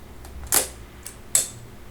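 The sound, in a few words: Voigtlander Vito II camera shutter release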